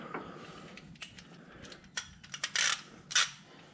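A wrench loosening a 27 mm fitting on a 2.8L Duramax diesel in a 2017 Chevrolet Colorado ZR2, producing a few faint metallic clicks and scrapes followed by sharper, louder clanks near the end, with no talk.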